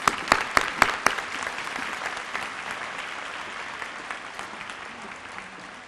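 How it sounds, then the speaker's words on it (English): Round of applause from an audience at a service awards ceremony for a 25-year honoree, opening with a few sharp loud claps and settling into steady, even clapping that fades slightly toward the end. "Let's give a round of applause for our 25-year service award"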